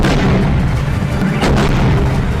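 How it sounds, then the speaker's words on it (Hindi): Missile strikes hit Donetsk, six missiles falling one after another across a wide area; a dense, loud rumbling roar fills the whole stretch, swelling into a sharper burst about midway. "यह उस वक्त का वीडियो है जब डोनेस्क पर एक के बाद एक 6 मिसाइलें गिरी, जिससे एक बड़ा इलाका दहल उठा।"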